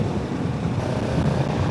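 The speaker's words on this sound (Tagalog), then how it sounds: "Ang lakas ng hangin guys." Strong wind buffets a rider on a Kawasaki Z650RS motorcycle along a seawall on Netherlands country roads, a steady, loud broadband roar with engine rumble underneath, continuous throughout with no speech.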